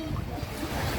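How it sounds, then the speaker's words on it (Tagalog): Sea water lapping and surging around a boat on an island-hopping trip in Palawan, a steady low wash of waves close by with a breezy rush, no talking. "kaluskos ng dagat."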